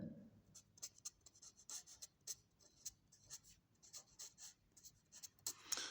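Pen scratching on paper while a maths problem on finding the intercepts of a line is worked out, giving a run of soft irregular strokes and ticks close by, with no talking.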